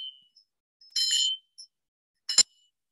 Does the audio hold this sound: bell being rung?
yes